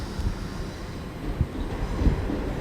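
An InterCity Express Train departs London Paddington on the Great Western Main Line, producing a low, steady rumble with faint wheel clanks, heard at moderate distance in the station.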